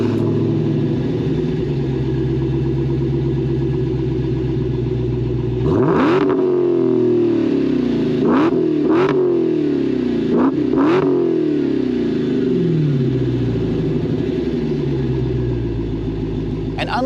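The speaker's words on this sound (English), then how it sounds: "let's go ahead and fire it up. You can hear how it sounds real quick" A 2023 Dodge Challenger Black Ghost Hellcat with a loud exhaust fires up and settles into a deep, steady idle, then gives several sharp revs close by. Brief talk comes in over the engine.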